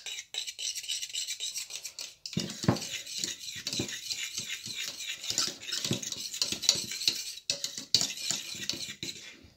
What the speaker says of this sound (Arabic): وغادي نخلط لاصوص بيشاميل ديالي هي هادي